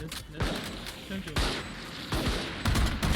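Valorant gunfire cracks out in several sharp bursts of shots at a moderate distance, spaced across the moment, while a player talks over the shooting.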